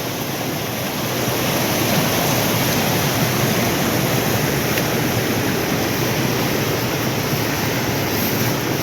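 Dense, continuous rush of a rain-swollen river in the Konkan monsoon, loud and steady throughout with no other sounds standing out.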